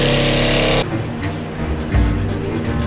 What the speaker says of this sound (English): So I'm gonna try to use my jigsaw and see what happens.